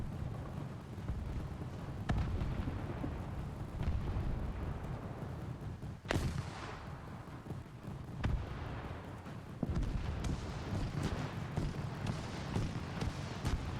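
Gunfire and explosions rattle through a video game scene, with sharp cracks and several booming blasts at irregular intervals over a steady, fairly faint rumbling din.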